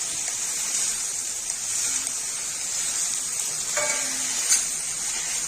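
Steady sizzling of drumstick leaves being sautéed in a hot pan, with a few soft stirring scrapes and clinks, close and continuous.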